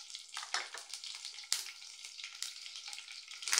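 Green chillies sizzle and crackle in hot oil with mustard seeds, a close, continuous hiss broken by sharp spits and pops, with no voices.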